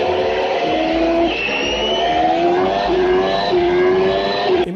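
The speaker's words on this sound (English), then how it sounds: "Imagine driving a Formula One car." A Formula One race car's engine drones steadily and loudly, holding a high, slowly shifting whine with no break for several seconds.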